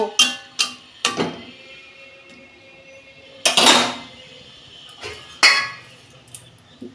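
Metal pot lid clattering onto a cooking pot while prawns and mixed vegetables simmer, a series of sharp metallic clinks and knocks, several quick ones early on and two louder clangs later, with quiet gaps between.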